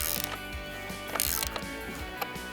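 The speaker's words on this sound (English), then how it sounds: "Now we're putting in the leg bolts to hold the posts in nice and tight." Ratchet tightening leg bolts on cedar deck posts gives rapid, close, dry clicking in uneven bursts, with a few louder pawl snaps and a slight creak.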